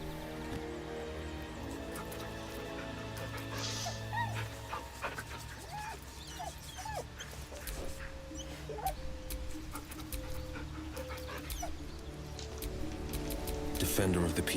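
A dog in Baldur's Gate 3 whimpers with soft, high whines over a steady ambient bed of game music. A voice may be present underneath.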